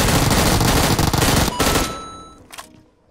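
Rapid automatic gunfire in PUBG, a loud dense burst of shots for about two seconds, then a few scattered fainter pops as the action tails off; no talk.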